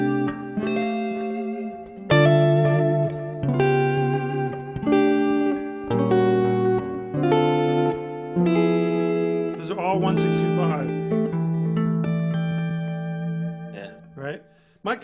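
Guitar notes and chords played through effects such as distortion, chorus and echo, heard over a Zoom call in a blues in G setting, ringing out one after another with sustained tails and brief gaps, fairly close and clear.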